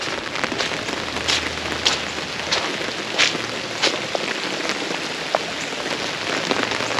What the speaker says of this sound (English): we got a lot of rain, guys